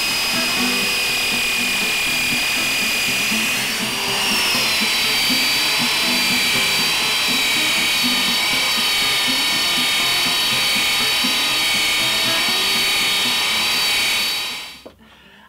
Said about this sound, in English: I thought I'd try my belt sander for the final finish